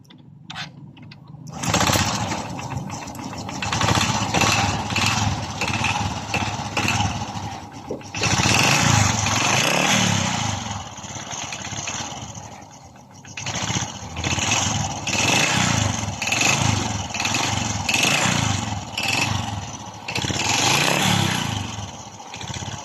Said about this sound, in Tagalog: Ito na yung final na tunog pagkatapos ating ma-assemble ang kanyang makina.